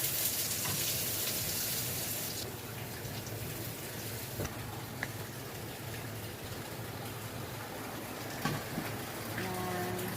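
Rain falls steadily outside a Filipino home kitchen where liver is being cooked, a soft continuous hiss of drops on surfaces at moderate distance with faint clinks.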